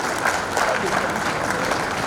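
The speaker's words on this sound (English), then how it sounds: "Can we clap, ladies and gentlemen?" Loud, dense clapping from a crowd at a 2023 tech innovation summit in Ekiti, a thick continuous roar of many hands close by with a faint murmur of voices mixed in.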